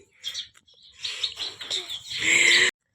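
Sparrows chirp in quick, bright bursts close by, building into a louder, steady twittering before the sound cuts off abruptly.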